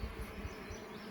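A large swarm of honeybees working inside a hive with comb, a dense, steady, low buzzing drone heard close up and alone.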